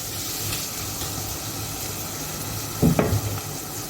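Carrots, peas and vegetables simmer in a pot on a gas stove, a soft continuous sizzle and bubbling hiss with a brief louder stirring clatter near the end.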